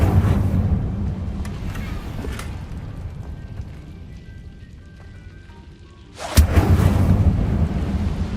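A fire spell cast in Hogwarts Legacy, heard as a loud sudden whoosh-burst near the end, following a long rumbling, crackling magical texture with no talk.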